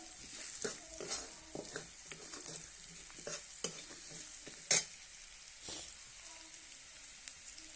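Spices with a little turmeric and curry leaves sautéing in oil, with a steady soft sizzle and repeated scraping stir strokes, plus a few sharper clicks of the spoon against the pan.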